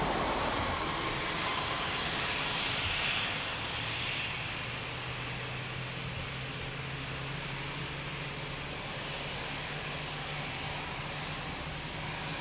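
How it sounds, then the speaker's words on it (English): A Ryanair passenger jet arriving from Edinburgh and landing at Lisbon Airport, heard as a broad, steady engine roar with a low hum that eases slightly as it rolls on, moderately distant and without voices. "So that was Ryanair landing coming in from Edinburgh."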